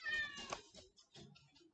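A house cat meows loudly, a drawn-out call followed by a few shorter, fainter mews in quick succession, close by in a quiet room.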